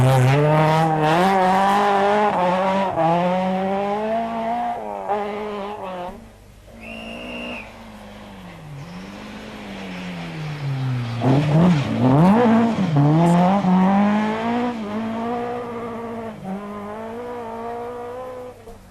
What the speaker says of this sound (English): it was no surprise on Saturday morning to see the four-wheel drive cars leading the way